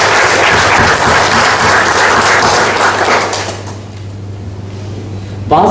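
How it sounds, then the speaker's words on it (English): Loud audience applause at an installation ceremony for new office bearers, dense clapping that tapers off after about three seconds, leaving room tone and a final knock or thud. "Can you give a big round of applause to Master Sarman?"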